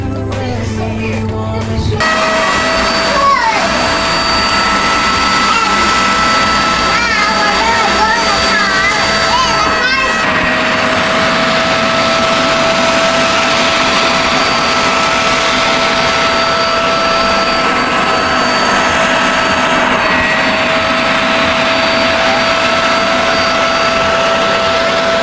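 A clothes dryer fitted with a heater blows air to dry the laundry, a loud, close, continuous whooshing roar with a steady tonal hum. The roar shifts pitch slightly early on, then runs unbroken to the end.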